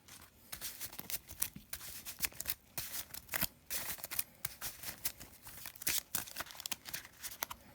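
Deck of trading cards being riffle-shuffled by hand before test hands in a card game, giving repeated crisp flutters and snaps in quick bursts, close and fairly quiet, with no talking.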